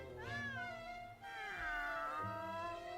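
Cartoonish cat meowing in the video game The New Adventures of Elliot, several drawn-out, pitch-bending meows in a row, close and clear over a steady game music bed.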